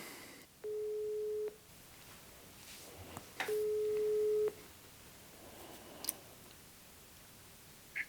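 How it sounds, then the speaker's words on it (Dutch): Two long, steady ringback tones sound on a phone call while a caller waits for someone to answer, each beep lasting about a second with a pause between, clear and alone over quiet room noise. "We gaan gewoon bellen, kijken of dat hij opneemt."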